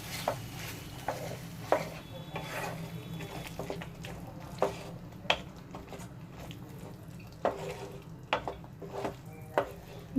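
Ingredients for a mixed vegetable gravy stirred in a pan, with repeated spoon scrapes and taps over a soft, wet bubbling sizzle, close and steady with no speech.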